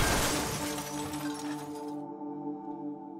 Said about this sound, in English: From the 5th floor, about 60 feet above, came a crash of glass and a body smashed through the window